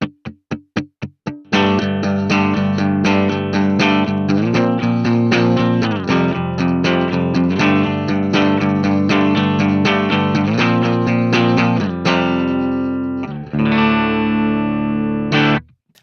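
An electric guitar runs through a NuX Atlantic effects unit into a Fender-style amp model on a Fractal FM3. A few single plucked notes lead into strummed chords on the edge of breakup, with lingering ambient trails and a final sustained chord.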